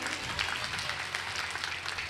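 Steady applause from a crowd at a Hindi poetry gathering, many hands clapping evenly and fairly loudly throughout the short stretch without a break.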